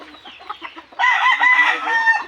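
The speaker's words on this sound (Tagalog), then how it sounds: "Backyard ng mga manok." Backyard chickens cluck close by, a short series of soft calls followed by a louder, drawn-out crow-like call.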